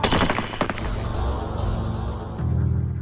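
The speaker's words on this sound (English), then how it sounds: "The deafening explosion of the 8 rifles was the last thing Ahmed heard." Volley of eight rifles from a firing squad, a sharp burst of overlapping cracks at the start followed by a rumbling, sustained roar that swells again near the end.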